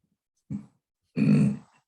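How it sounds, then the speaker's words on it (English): Two short, throaty burps close by, the second longer and louder, separated by silence. "Excuse my burping."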